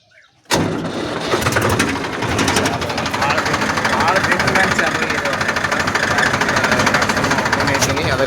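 A tractor engine cranks and starts abruptly, then settles into a loud, steady diesel chugging with a rapid mechanical knock, running close by for several seconds.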